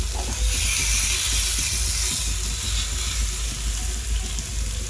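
Pineapple slices fry on a hot griddle over gas, giving a steady, loud sizzle with broad hiss that holds without pause, no voices over it.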